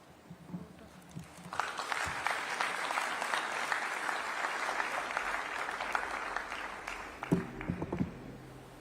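Audience applause at a memorial tribute event, starting with a few scattered claps and swelling into sustained, dense clapping from a crowd for several seconds before thinning out near the end.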